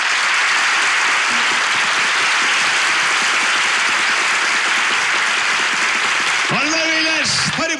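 A studio audience at a relationship quiz show gives sustained, loud applause, and a voice speaks over the clapping near the end.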